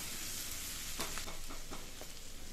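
Cumin, ginger, garlic and green chillies frying in oil give a steady, soft sizzle with a few faint crackles and stirring ticks, with no voices.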